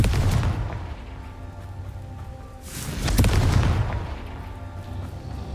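A Confringo blast in Hogwarts Legacy, a deep booming explosion that swells midway through, set against a continuous low game rumble, with no talking.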